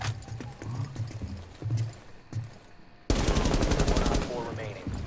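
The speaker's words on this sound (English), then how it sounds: "He got a headshot on me quick." Gunfire in the tactical shooter Rainbow Six Siege: muffled footsteps and scattered impacts at first, then a loud, sustained rapid burst of close gunshots over the last two seconds.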